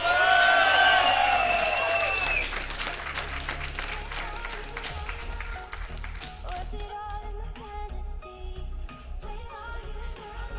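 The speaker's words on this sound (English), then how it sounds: "Let's give one more round of applause to our MVPs." Loud applause from a crowd for MVPs at a Rainbow Six Siege esports event in Glasgow, dense clapping with some cheering and whoops, strongest at the start and easing to steady clapping.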